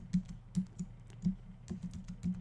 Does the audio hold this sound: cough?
no